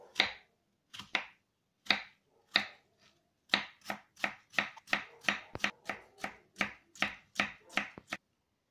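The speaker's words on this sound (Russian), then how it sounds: "И нарезаем мелким кубиком." A knife chops an apple into small cubes on a cutting board in sharp, crisp strokes, a few spaced cuts at first, then a quicker steady run of chops.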